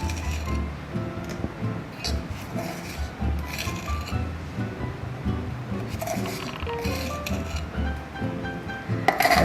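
A small metal 1/8 teaspoon measuring spoon adds baking powder to a bowl for keto, gluten-free garlic naan, giving repeated light clinks and taps against the bowl, close by and fairly clear.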